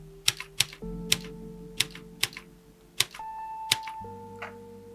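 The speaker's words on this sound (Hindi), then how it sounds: "तो इसके लिए मैंने टाइमलाइन में एक टाइपराइटर के साउंड की ऑडियो क्लिप ले रखी है" Typewriter sound effect: sharp irregular key strikes, about a dozen clacks over five seconds, over a steady hum and faint bell-like tones, with no one talking.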